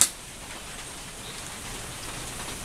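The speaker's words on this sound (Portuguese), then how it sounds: "um dia chuvoso de novo, chuva" Steady rain falls on a rainy day beside an outdoor country camp kitchen, an even, constant patter and hiss throughout with no voices.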